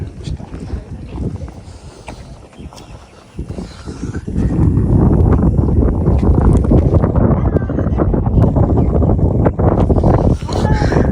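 Strong wind at a large solar power plant beside the Teesta buffets the microphone in a loud, steady low roar that swells partway through, with people talking faintly underneath.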